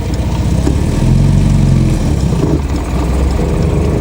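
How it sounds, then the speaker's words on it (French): An MGB GT Sebring sports car pulls away from a stop in third gear, its engine loud and close with a low, labouring rumble that strains and rises slightly. "Là, je redémarre en troisième."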